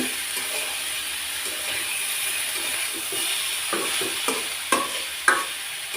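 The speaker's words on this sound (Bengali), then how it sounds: "ঢাকনাটা খুলে কিন্তু মাঝে মাঝে একটু নেড়ে চেড়ে দিতে হবে তা না হলে কিন্তু করলা ভাজিটা তলায় পুড়ে যেতে পারে" Bitter gourd fries in a pan with a steady hiss, while a spatula stirs it with a few soft scrapes and knocks toward the end. Close and fairly loud with no voices.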